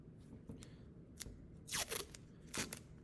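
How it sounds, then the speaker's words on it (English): Masking tape is torn from a roll and pressed down onto a small paper hopper popper toy. A few sharp, crackly rips and scrapes come up close and quiet, set apart by short pauses. "and then just take a piece of masking tape"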